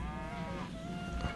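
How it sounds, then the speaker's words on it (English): Cattle mooing in Civilization V, a single drawn-out bovine call with steady harmonic tones, clear and close against a faint game background with no talk. "Here we go, found some cows."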